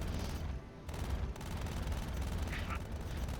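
Ship laser cannons firing in the space combat game Star Citizen, a dense, loud stream of rapid shots with brief gaps, layered over engine rumble.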